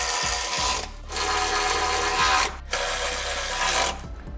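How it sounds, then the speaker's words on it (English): A power tool tightening bolts on a rock slider mounted to a 5th-gen Toyota 4Runner frame, a loud close whirring buzz running in bursts with two brief pauses between. "We've started to tighten down some bolts, and we've just got a few more to go."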